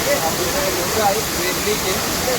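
Steady rushing roar of Chander waterfall in Malvan, Konkan, close and loud, unbroken throughout, with faint tonal sounds drifting over the water.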